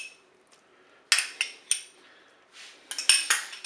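Metal utensil clinking and scraping against a Cookeo multicooker pot while tomato paste is stirred into a curry, several sharp clinks in short bursts with quiet gaps, close and fairly soft, no talking.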